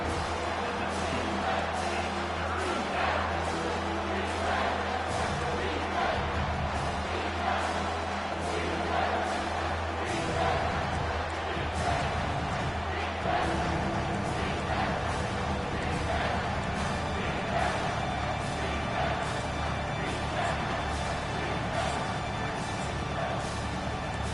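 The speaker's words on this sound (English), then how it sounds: "This crowd knows when to bring it." College football stadium crowd roaring steadily at a loud level through a live game, with an announcer calling the play over the noise.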